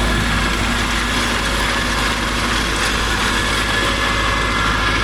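A Zetor 7341 tractor engine runs steadily at close range during parsley digging in a dry field, a loud unbroken mechanical drone with no talking over it.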